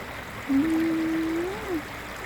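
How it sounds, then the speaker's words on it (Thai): Steady rushing water flows throughout, with a brief low humming tone rising over it midway. "น้ำไหล"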